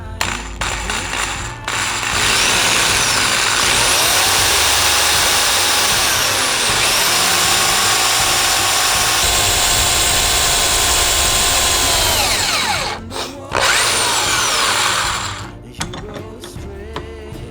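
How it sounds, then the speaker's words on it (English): A power drill bores down into the center of a deer antler to about an inch deep: a loud, steady whine that holds for roughly ten seconds, cuts out, then returns for a shorter second burst before stopping. "Find basically the center of the antler, and you're just going to drill down to that inch mark"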